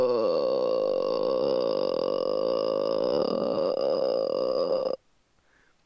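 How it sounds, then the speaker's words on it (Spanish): A long, loud, drawn-out burp at a birthday party, rumbling steadily for about five seconds close to the mic and then cutting off into silence. "Oh, pensé que estaba eructando, hermano."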